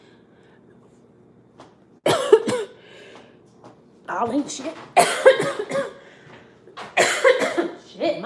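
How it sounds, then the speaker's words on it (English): A person coughs in several harsh, close bursts of two or three, spread over a few seconds with quiet gaps between them, mixed with some brief speech. "Shit, my bad. I'm coughing."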